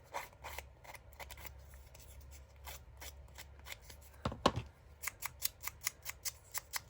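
Sandpaper rasping along the edges of paper ephemera for grungy junk-journal dangles: close rubbing scrapes, then a quick, even run of short strokes at the end, with no talking.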